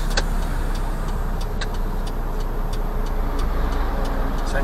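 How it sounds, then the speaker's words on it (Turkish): Steady, loud engine rumble inside a truck cab during a driving-school outing, with a constant low drone and faint intermittent clicks throughout, no speech. "Kamyon içindeyiz şu an."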